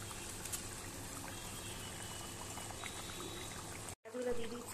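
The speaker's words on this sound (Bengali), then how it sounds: "ঝোল ফুটে গেছে, এবার আমি মাছগুলো দিয়ে দেবো।" Pieces of bhola fish go into a boiling curry: faint, continuous bubbling and watery pouring close by, interrupted by a brief silent gap before a louder splash.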